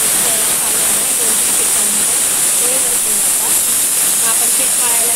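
A kitchen pressure cooker whistles as it vents steam while sweet potato cooks inside, a steady loud hiss running unbroken and filling the whole stretch without pause.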